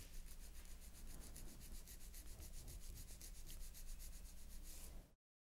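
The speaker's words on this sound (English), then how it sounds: "The first step in filing is to file straight out from the nail groove on the left." An acrylic nail filed straight out from the nail groove, a quiet rapid rhythmic rasping of repeated file strokes, close up, that stops abruptly at the end.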